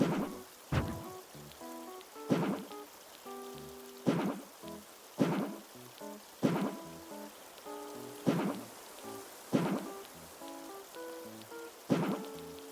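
Rain falls in Animal Crossing: New Horizons, a soft steady patter mixed with gentle game music that pulses in evenly spaced swells about every second and a half.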